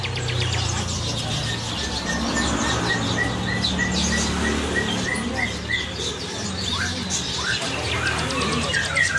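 Busy birdsong with many canaries chirping and trilling continuously at a bird shop, a dense chorus of tweets over a low steady hum and some background voices.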